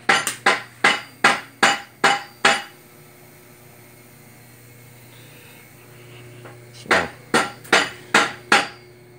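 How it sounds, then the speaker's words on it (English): A hammer peens a kart chain held in a vise, giving seven sharp metallic strikes in a fast, even rhythm, then a pause and five more, all loud and close. "so that you can hold that on one side and peen on the other side"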